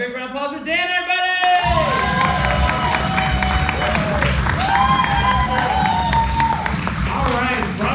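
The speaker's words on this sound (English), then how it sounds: "Next comic, big round of applause for Dan" A comedy club crowd at a stand-up show claps and cheers for the next comic, a dense, loud mix of applause and whoops. Music with a sustained melodic line plays over it throughout.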